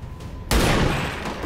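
A single loud gunshot from a rifle in the video game XCOM 2 bursts out abruptly after a quiet lead-in, then rings and decays through a long, rumbling tail.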